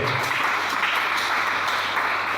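A church congregation applauds and cheers in praise, a steady dense wash of clapping with scattered shouts, loud and continuous throughout.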